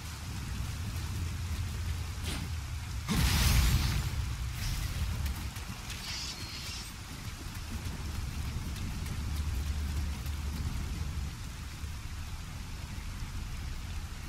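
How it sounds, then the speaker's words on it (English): Steady rain falling in the Nioh video game, a constant soft patter throughout, with a sharp splash or impact burst near the start and a faint higher rustle soon after. "I do love the rain."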